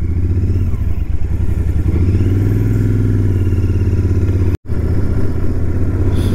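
A Royal Enfield GT 650 twin-cylinder motorcycle is ridden, its engine a loud, steady low rumble up close, rising and settling in pitch with throttle, broken by one brief cut-out.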